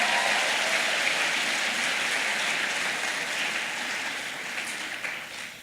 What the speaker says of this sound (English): Let's give them another round of applause as they leave the hall.